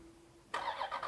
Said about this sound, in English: And the vehicle will start right up for you.